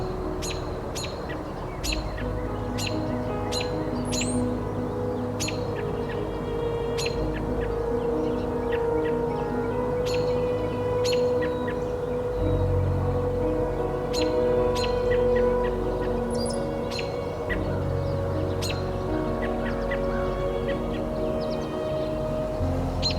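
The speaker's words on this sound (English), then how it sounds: "a robin threatens her with loud calls" Sharp, repeated American robin alarm calls ring out at steady intervals over a constant low hum of distant traffic.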